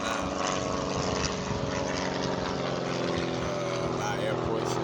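A propeller airplane flies over near an airport, its steady droning engine hum holding at a constant loud level throughout, with a low rumble underneath and no talk.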